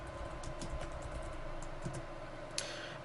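Fingers typing a short name on a computer keyboard: a scattered run of light key clicks over steady room noise, with one sharper tap near the end and no voices.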